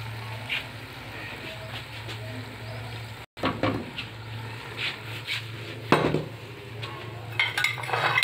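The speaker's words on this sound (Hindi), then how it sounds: "अब इसको डिश आउट करते हैं।" Aloo ka zarda is served out of a cooking pot into a dish, with a run of clinks and scrapes of metal utensils against cookware and a low hum underneath.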